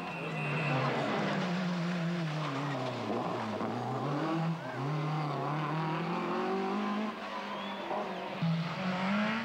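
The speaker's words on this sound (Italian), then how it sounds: "con la sua BMW M3 dà spettacolo divertendosi" A BMW M3 rally car on a rally stage, its engine revving and droning continuously with shifting pitch and some tire noise, heard from trackside under a continuous broadcast-style backdrop.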